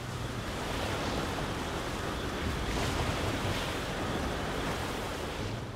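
Ocean waves at sea in the video game Anno 1800 make a steady, dense rushing wash with windy texture, continuous and fairly loud, with no talking.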